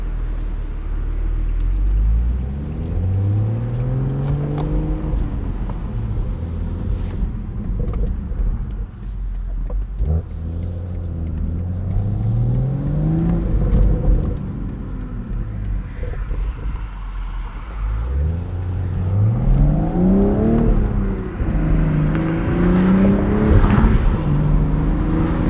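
A 2025 BMW Z4 M40i with a six-speed manual, top down, driving on the road: loud engine revving that rises and falls through gear changes, with crackling exhaust pops between pulls, close and continuous.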